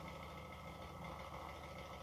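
Radial flux BLDC motor, a high-efficiency type drawing very little power, running with a steady, faint, even hum and whine, unchanging over a couple of seconds with no talk.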